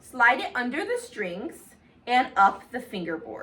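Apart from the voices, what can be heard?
None of the usual background noises is heard.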